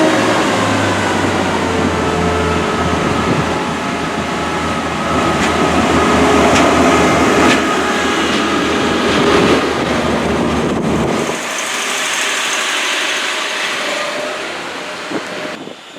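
Pacer diesel train rumbling along a station platform, a loud rolling drone with rail clatter that drops away sharply partway through, leaving quieter hiss and wind noise.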